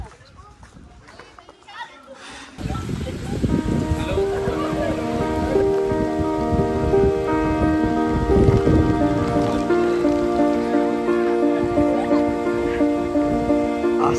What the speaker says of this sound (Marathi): असला तो पण पाऊस चालू आहे ना.